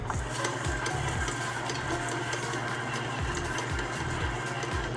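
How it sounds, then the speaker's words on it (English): Stand mixer running on low speed through a meatball mixture, a steady motor whir with rhythmic low thumping from the beater, continuous and fairly close. "So we're gonna mix everything up in our stand mixer. And we're gonna mix on low."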